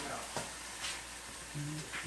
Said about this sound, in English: I'm getting the onion sauteed